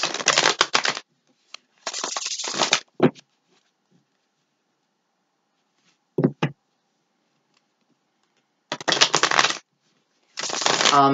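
Tarot cards are shuffled in several quick riffling bursts, close and crisp, separated by silent pauses and a few soft taps.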